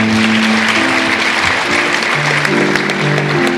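Sustained audience applause for honored students at a school district academic awards ceremony, a steady dense wash of clapping hands throughout with a faint tonal hum underneath and no talking.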